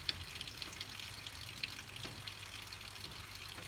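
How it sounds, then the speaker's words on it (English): Heavy rain pours steadily outside an abandoned barn, a constant broadband hiss and patter like distant running water, close and unbroken with no talk. "What is the waterfall sound in the background? That is because it's really pouring hard."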